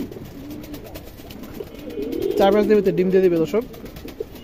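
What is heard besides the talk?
Indian Kaldom pigeons cooing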